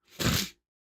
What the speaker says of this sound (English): my nose just got randomly filled with phlegm